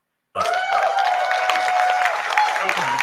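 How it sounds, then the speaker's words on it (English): A small scattering of people claps in a room, the sparse clapping starting suddenly and continuing steadily for a few seconds while a voice sounds over it. "a couple of people clapping, everyone else just sitting there in shock"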